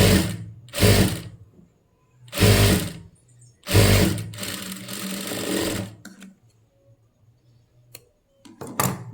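Sewing machine stitching the lining of a long blouse, several short loud whirring bursts followed by a longer run, then quieter clicks and mechanical ticks near the end.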